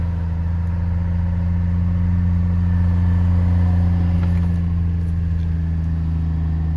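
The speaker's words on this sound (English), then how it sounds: "it is idling kind of high." A Chevrolet Trailblazer engine idling at a steady, elevated pitch, a constant close-up hum with no talking and no change in speed.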